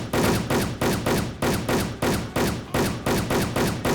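Rapid automatic gunfire in the online shooter game Wolfteam, loud and close, firing in short repeated bursts of roughly half a second each with brief gaps, no voices over it.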